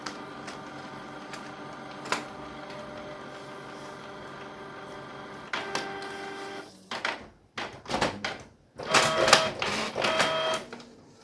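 A Canon Pixma inkjet printer runs through a page, starting with quiet mechanical whirring and clicks, then building into louder bursts of paper-feed and print-head movement with brief pauses between them.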